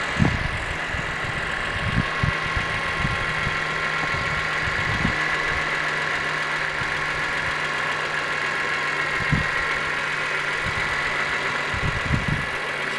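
A BMW M3 engine idles steadily beneath the loud, constant whoosh of its cooling fan, with occasional low thumps and knocks.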